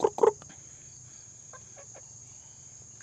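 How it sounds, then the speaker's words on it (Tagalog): Pet chickens cluck while being fed in the early morning, with a couple of louder close clucks at the start, then faint scattered clucks over a soft steady insect hum. "Pakainin natin yung mga alaga nating manok"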